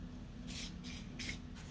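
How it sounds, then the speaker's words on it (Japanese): Short bursts of grease spray are applied around the clutch lever of a Kawasaki Balius motorcycle, three or four hissing puffs in quick succession over a low steady background hum. "ちょっとグリススプレーで"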